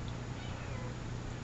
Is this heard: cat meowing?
yes